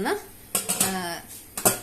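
A few sharp metallic clanks and a scrape as a pressure cooker lid is set and locked onto the cooker, close and brief.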